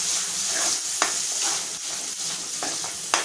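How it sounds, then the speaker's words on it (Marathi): Onion and ground coconut masala paste sauté in a pan for a Malvani pea and potato usal, giving a steady hiss punctuated by a few sharp scraping clicks from stirring. "आपल्याला तेल सुटेपर्यंत परतून घ्यायचं आहे।"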